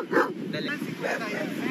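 A Presa Canario dog lets out short yips and a whimpering whine close by, with background voices and noise around it.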